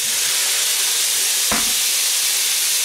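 Apples and onions fry in a hot pan for pork steaks with cider, a loud, constant hissing sizzle with one brief clunk partway through and no talking.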